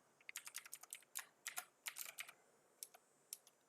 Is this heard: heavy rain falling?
no